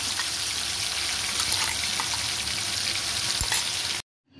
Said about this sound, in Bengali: আমি এবার পেঁয়াজ, রসুন, আদা বাটা দিয়ে দিচ্ছি।